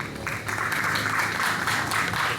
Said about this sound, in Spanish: Fuertes aplausos para Caire